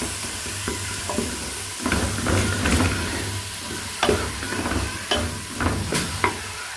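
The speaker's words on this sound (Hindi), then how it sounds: "इस मसाले को अच्छी तरह से भून लेंगे ताकि मसाले पक भी जाएं और ये कच्चे भी ना रहें।" Spice masala for dal sizzles and fries steadily in a pan, with a spoon scraping and stirring in irregular clinks and knocks over the continuous crackle, close and clear.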